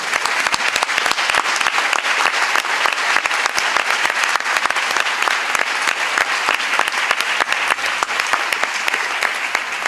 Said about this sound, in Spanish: Y fue un aplauso dado con mucho gusto también.